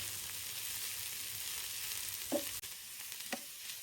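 Onions fry in hot oil for a fish fry dish, making a constant close sizzle, with a couple of brief clinks and scrapes from a utensil stirring the pan.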